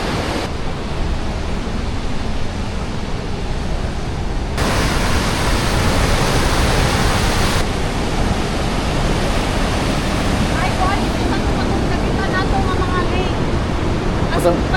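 Flowing stream water rushing steadily nearby, a loud broadband roar that shifts slightly in tone midway, with no clear talk over it.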